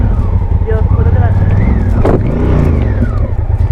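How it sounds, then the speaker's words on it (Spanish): A car approaches along a road on Sardinia during a motorcycle trip, its engine swelling beneath steady loud wind and motor rumble, while people talk over it. "Dios, ahora viene un coche"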